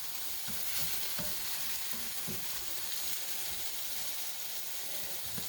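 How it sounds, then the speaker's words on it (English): Fried apples cook in a pan with a steady hissing sizzle and a few soft scraping stirs, quiet but constant, with no talking. "But yeah, I'm doing the fried apples."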